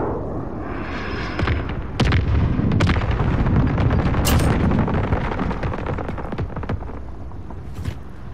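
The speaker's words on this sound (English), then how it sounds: "Copy, Phoenix 3-1, dropping white phosphorus." A white phosphorus artillery strike in a military video game: heavy booms and crackling bursts pound in a dense, loud barrage that runs for several seconds and holds near steady before easing slightly.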